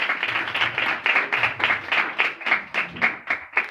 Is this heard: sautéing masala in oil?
no